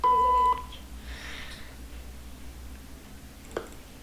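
A single steady, loud censor beep lasting about half a second, then quiet room noise with a faint click.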